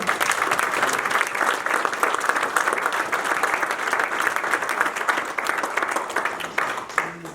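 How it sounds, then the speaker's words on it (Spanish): A church congregation at a campaign service applauding together, dense sustained clapping from a crowd that fades slightly at the end. "Denle un aplauso al Señor"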